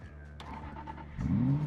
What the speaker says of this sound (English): I can hear the engine throttling like hell